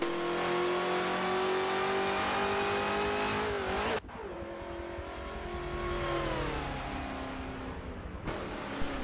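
A Chevrolet Corvette C4 engine in the Forza racing game revs and accelerates loudly and continuously, with pitch climbing through gear changes and dropping at two sharp shift breaks, close and steady with no voices.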